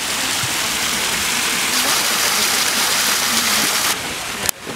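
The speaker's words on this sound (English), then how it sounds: "look at this nice waterfall." A waterfall along a cliff walk gives a steady, close, full-bodied rush of falling water that holds level for about four seconds before cutting out abruptly.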